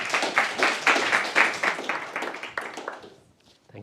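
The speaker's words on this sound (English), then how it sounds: "Just a big applause." A small audience at a panel event on neurodiversity in data and AI claps, a moderate, uneven patter of hands that swells and then thins out over a few seconds before fading away.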